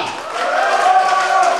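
At a wedding celebration, guests applaud and shout for the second couple in a contest; a continuous, fairly loud crowd noise of clapping and voices that stays even throughout.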